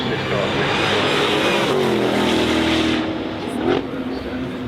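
A supercharged 5.2-liter V8 in a 2024 Ford Mustang GTD, a loud, close, rumbling engine roar holding steady with a rising rev that eases off, while a voice talks over it.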